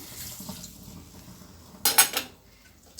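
A brief splashy burst of ground spice-paste water being poured into a pot of vada curry, loud and close, after a quiet stretch of faint kitchen clatter.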